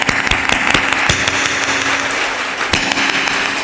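A crowd at a spiritual discourse claps unevenly, with sharp individual claps standing out loudly from a dense, close wash of applause.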